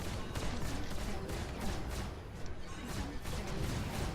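Spaceship guns blaze in rapid sustained bursts during a Star Citizen space dogfight, a dense loud stream of fire with sharp repeated shots over rumbling engine noise.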